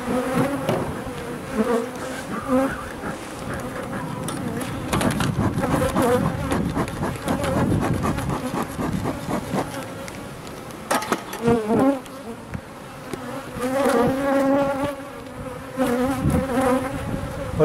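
Dense, steady buzzing of many honeybees swarming close by as supers are removed from an open hive, loud and continuous with shifting pitch as insects pass near.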